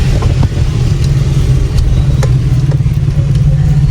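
Car engine running steadily while the vehicle parks on a rain-flooded street in Pakistan, a loud, even low hum with faint water and road noise, no talk.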